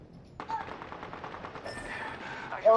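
Rapid gunfire bursts from a video game firefight, a steady rattle of shots running through the whole short stretch at moderate loudness, with a brighter burst near the end.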